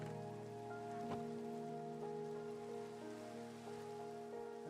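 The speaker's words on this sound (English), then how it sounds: "Okay, it's raining again" Steady rain in Minecraft, a continuous soft patter at moderate level with a low ambient hum beneath and no talk.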